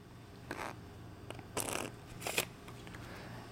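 A few quick riffling bursts of cards being shuffled, short crisp flutters separated by pauses, close and fairly quiet.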